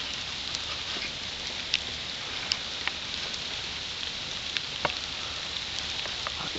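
Rain falls steadily in woods during a hike, a constant soft patter with scattered sharper drops striking nearby surfaces and no voices.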